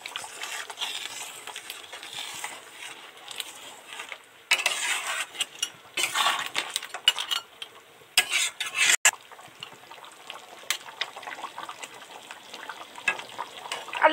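Spicy Sundarbans sea crab curry with potatoes bubbling in a pot, a close, steady crackling simmer broken by sharper clattering bursts, with no voices.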